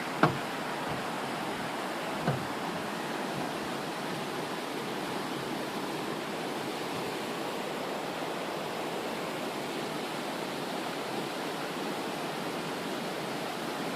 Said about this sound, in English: crossing the Toxaway